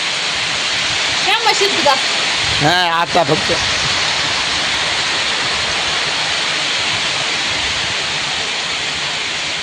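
Heavy rain pouring down, a dense, steady roar of water close by that continues unbroken, with brief bursts of speech early on.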